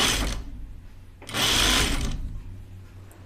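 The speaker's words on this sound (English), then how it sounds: "This fabric is really easy to sew." A sewing machine stitches drapey yet stable fabric in two loud whirring runs, a short burst and then a longer, steadier one, separated by a brief near-silent pause.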